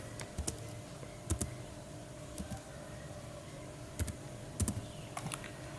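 Sparse clicking keystrokes on a computer keyboard as a captcha is entered at a login page, coming in short irregular bursts with pauses between, fairly faint against a quiet room background.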